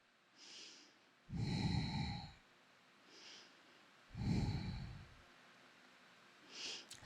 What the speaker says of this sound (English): So inhale and then exhale.